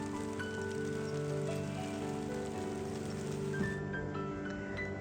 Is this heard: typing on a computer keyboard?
no